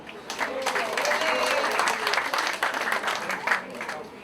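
Sustained applause from an audience at an International Women's Day 2018 event, steady clapping filling the room for several seconds with some crowd noise mixed in.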